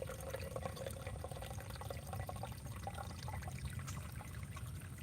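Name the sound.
rainwater vinegar being poured while decanting FPE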